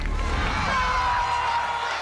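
Arena crowd at an American Ninja Warrior finals course in Atlanta cheers and roars continuously, a dense, loud wash of voices and whoops sustained throughout.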